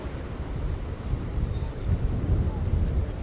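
Ocean waves breaking along a shore, a continuous rumbling surf wash with wind buffeting the microphone, swelling louder in the second half.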